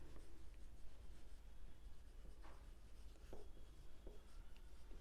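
A pen scratches across paper in short, close strokes while a Class 10 statistics problem is worked out, quiet and steady with no talking.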